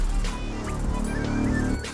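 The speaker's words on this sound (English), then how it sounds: "I've added this little war horn" War horn sound effect from a trap-style beat made in FL Studio, a dense sustained brassy blare over the loud mix for about two seconds, with no talking.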